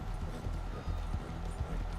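A piebald Tabiano Hungarian half-breed horse in the video game Red Dead Redemption 2 clip-clops steadily and rhythmically, its hooves up close over a low, continuous background.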